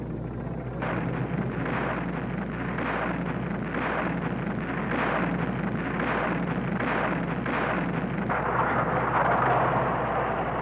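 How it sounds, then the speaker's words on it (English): Heavy tank guns fire as artillery in a steady series, roughly one per second, booming at a distance over wind rumble, during the Korean War. "By gaining extra elevation, tank rifles are turned into artillery cannons."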